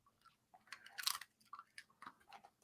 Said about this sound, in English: You got a treat. Hear that crunch?